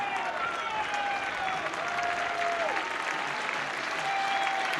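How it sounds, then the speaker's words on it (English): A crowd at a one-day cricket match, Somerset vs Durham in the Royal London Cup, keeps up a steady wash of applause and cheering, with a voice talking over the top. "You can hear the crowd through the effects mic."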